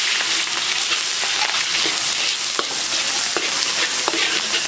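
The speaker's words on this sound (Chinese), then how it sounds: "把它炒香，炒到香味来。" Onion and ginger are stir-fried in hot oil in a wok, a close, steady sizzle broken by repeated scraping and tossing strokes from a spatula, with no talking.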